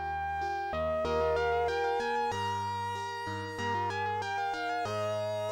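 Custom Mega Drive game music, a short FM synth tune with a bouncy bass line and bright melodic notes, playing clearly on its own.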